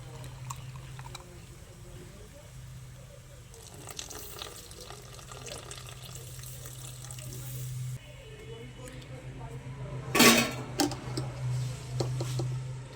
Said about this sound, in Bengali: ওই জন্য জলটা একটু বেশি দিলাম